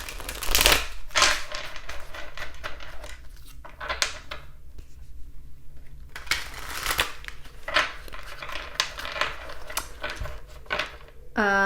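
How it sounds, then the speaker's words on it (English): A tarot card deck is shuffled quickly at close range in a string of crisp riffling and sliding bursts with short pauses between them. "I'm just going to give it a quick shuffle."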